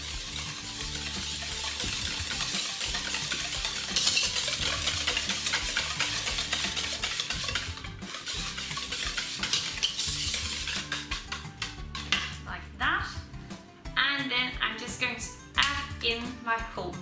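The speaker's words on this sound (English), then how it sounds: "And my lemon juice. And just stir that around." A spoon scrapes and clinks around a bowl, stirring lemon juice into an ice cream mixture with quick, irregular close strokes while someone talks.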